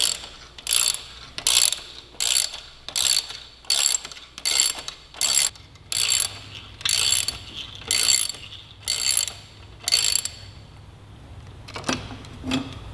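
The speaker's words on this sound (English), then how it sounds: "move to a ratchet. It's going to give me a little more torque." A hand ratchet clicks in about a dozen steady bursts, close and loud, while loosening bolts on the rearsets of a 2018 Suzuki GSX-R1000, then stops near the end.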